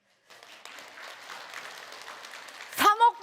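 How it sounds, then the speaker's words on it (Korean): Audience at a business seminar breaking into scattered applause that builds steadily, followed by a sharp vocal outburst near the end. "옆에 있는 사람이 박수 치니까 따라 치는 거죠"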